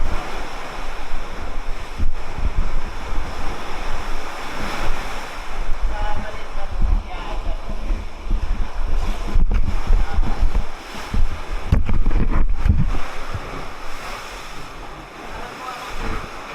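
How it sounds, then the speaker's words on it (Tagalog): Heavy surf crashes continuously with strong wind buffeting the microphone, a loud, rough wash of ocean waves throughout on a beach at Boracay, Philippines. "Kaso malakas yung alon ngayon"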